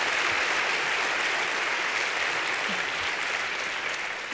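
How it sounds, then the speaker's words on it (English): Audience applause at a parent education event on fostering resilience, a steady, dense wash of clapping from a large crowd held at an even level for the whole stretch, with no voices over it. "another round of applause for Ken"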